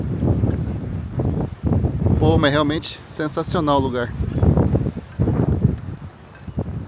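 Wind gusts buffet the microphone on a cold seaside shore, a loud rumbling roar that rises and falls under someone speaking Portuguese.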